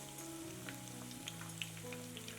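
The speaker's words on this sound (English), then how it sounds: "So as you see, oil is sizzling." Steady crackling sizzle of oil deep frying paneer palak pakoras, with faint pops and a low hum in the background, continuous and fairly quiet.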